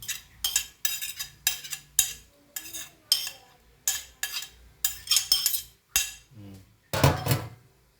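Sliced jicama and mango filling being stirred in a bowl, a steady run of short scraping and clinking utensil strokes in a quick irregular rhythm, close and fairly loud, with one heavier clatter near the end and no talking.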